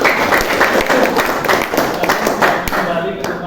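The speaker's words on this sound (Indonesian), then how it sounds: "Beri aplaus untuk kelompok." Classroom applause for a student group that has just finished presenting in a biology lesson, dense clapping from many hands throughout, close and fairly loud, with voices talking over it.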